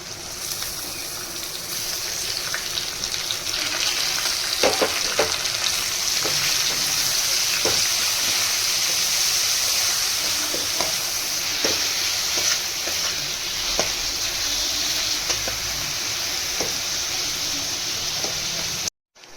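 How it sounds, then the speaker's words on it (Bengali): Crushed garlic and a bay leaf fry in hot oil in a pan, a loud, continuous sizzle with occasional stirring clicks that stops abruptly at the end. "রসুনটা একটু ভাজা হয়ে গেলেই আমি পেঁয়াজটা দিয়ে দেবো।"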